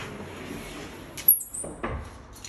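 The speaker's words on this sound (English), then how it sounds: "And if we open up these doors" Cupboard doors in a house hallway open onto a laundry, giving a soft thud and a brief squeak followed by a couple of low knocks, close and moderately quiet.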